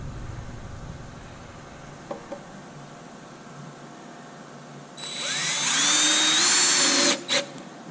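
A power drill drives screws to mount drawer slides, giving one loud, close whirring burst of about two seconds after a quiet stretch with a couple of light knocks.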